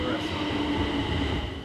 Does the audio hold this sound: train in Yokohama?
yes